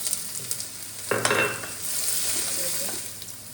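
Finely chopped ginger sizzles in a pan for injipuli, a loud burst of frying as it hits the oil, then a steady crackle with light stirring scrapes.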